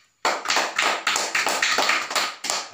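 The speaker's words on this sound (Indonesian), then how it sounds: "kita beri aplaus kepada" A classroom of students applauding a student named Jimmy, a short burst of steady clapping that starts abruptly and continues at an even level.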